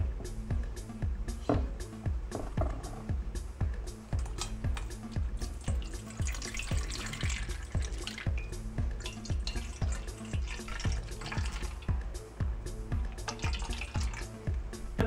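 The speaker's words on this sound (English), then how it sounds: "take my cheesecloth and I'm going to strain it all in a bowl and then make apple juice" Blended apple juice straining through cheesecloth into a bowl, a constant close patter of drips and trickling liquid in a fast, even rhythm.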